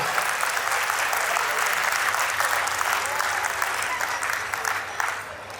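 An audience at a Diwali festival event in Gwalior claps continuously, a thick, even wash of applause that holds steady for several seconds before tapering slightly at the end.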